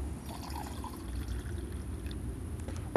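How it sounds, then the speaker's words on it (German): Water is poured into a white gold communion chalice, making a faint, low, steady pouring sound with a sharper knock at the very end. "Hier tue ich Wasser rein."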